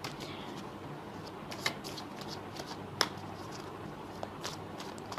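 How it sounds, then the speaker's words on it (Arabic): Playing cards shuffled for a tarot reading, giving soft riffling and sliding rustles with a few sharper flicks, close and quiet over a steady background hiss. "انا عماله افرط لكم الورق قوي عشان تطلع حاجه حلوه كده"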